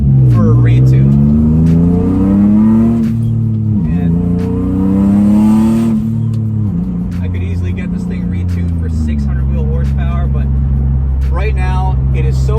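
A 2003 Nissan 350Z with a built motor and a custom Garrett GTX3582R turbo kit runs with a loud, steady, close engine drone whose revs swell and dip slightly throughout.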